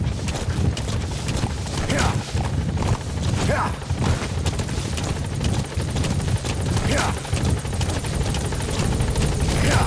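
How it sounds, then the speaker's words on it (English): Loud, continuous helicopter rotor thumping from a support helicopter arriving in Metal Gear Solid V: The Phantom Pain fills the scene, steady and close, with occasional mechanical clanks and whooshes over the drone. "Support helicopter has arrived."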